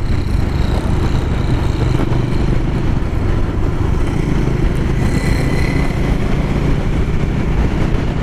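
A Bajaj Dominar 400 motorcycle cruising in sixth gear gives a steady, loud engine drone with wind rush, continuous and unbroken, with no talk.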